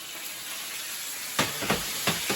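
Steady hiss of sizzling from a whole spatchcocked chicken roasting in an oven, joined by a few short louder crackling bursts near the end, with no talking.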